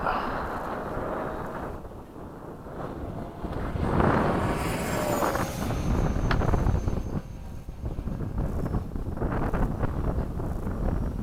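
A Freewing 80mm F-5 RC jet makes a fast pass under cloudy skies, its faint whooshing roar swelling and fading through heavy wind buffeting on the microphone.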